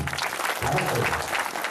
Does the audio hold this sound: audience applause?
yes